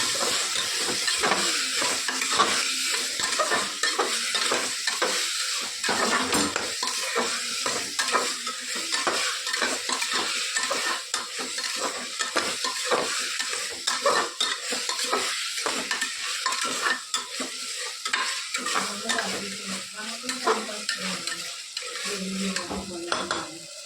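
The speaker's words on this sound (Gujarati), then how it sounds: "સરસ બધું મિક્સ કરી લઈએ" A tuver totha mixture of pigeon peas sizzles steadily in a pan while a spoon stirs it, scraping and clinking against the metal in irregular strokes under constant frying hiss throughout.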